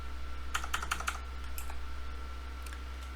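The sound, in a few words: typing a tar command on computer keyboard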